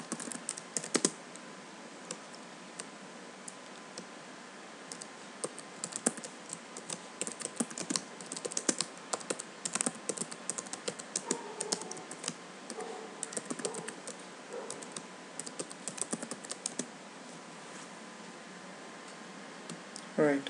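Rapid, steady clicking of a computer keyboard as an SQL query is typed, close and continuous with brief pauses, over a faint hum.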